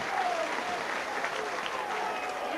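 A rugby league crowd at an Oldham versus Warrington match gives a sustained ovation, loud continuous applause and cheering filling the ground with no pauses.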